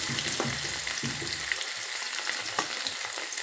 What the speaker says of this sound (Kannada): ಮೆಣಸಿನಕಾಯಿ ಒಂದು ಸ್ವಲ್ಪ ಎಣ್ಣೆಯಲ್ಲಿ ಕೆಂಪಾಗಬೇಕು ಫ್ರೆಂಡ್ಸ್